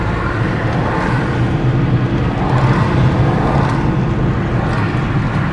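Steady interior road noise from a Mercedes E220 SE cruising along, a constant low engine and tyre drone with no distinct events.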